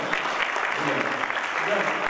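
An audience at a Brasscom public policy and business seminar panel in Brazil gives steady applause, dense clapping at an even level through the whole moment, with a voice faintly mixed in.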